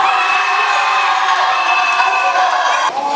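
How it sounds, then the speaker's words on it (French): A crowd at a Miss N'zassa Treichville preselection pageant cheers loudly for a contest winner, sustained shouting and whooping that stays close and dense, dipping briefly near the end. "Si c'est Maïk notre vainqueur, on applaudit très fort"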